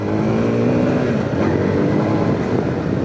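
A Zontes X2 310 single-cylinder motorcycle engine revs hard near the mic, a steady loud drone with a buzzy, rising pitch and no pauses.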